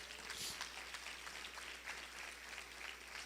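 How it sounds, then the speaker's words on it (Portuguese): A church congregation claps continuously, quiet and somewhat distant, with an even wash of hands and no voices standing out. "Pode aplaudir o Senhor por isso,"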